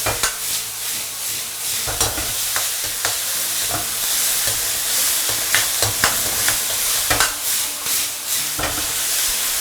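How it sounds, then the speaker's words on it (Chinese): Pickled chilies stir-fried in a wok over the highest heat, a dense steady sizzle with repeated sharp scrapes and clanks of the spatula stirring, close and loud, no talking. "最大的火一定要把这个泡椒的这种乳酸味给它炒出来"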